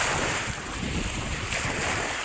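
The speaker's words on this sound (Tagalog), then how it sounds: "hinahagupit na tayo ng tudong hangin dito sa tabing dagat oh" Strong typhoon wind buffets the seaside, roaring steadily across the microphone over the crash and rush of surf, loud and continuous with no voices.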